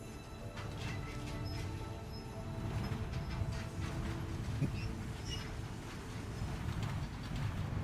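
Steady low rumbling hum of a monorail running in the video game Death Stranding 2, a continuous, fairly quiet drone with faint higher clicks, with no talk.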